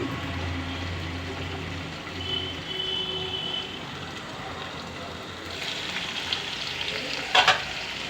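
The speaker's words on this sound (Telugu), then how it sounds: "ఆయిల్ బయటకు వచ్చేలా వేగుతుంది కదా" Raw drumsticks and vegetables fry in oil for a drumstick curry, giving a steady broadband sizzle that persists throughout, with a few stirring clatters and brighter spatters near the end.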